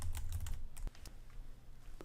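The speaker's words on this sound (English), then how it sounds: "Under each bullet I'm simply typing what I want and then hitting enter" Quick, light clicks of a computer keyboard being typed on, a short burst of soft keystrokes close by and fairly quiet, with no voices.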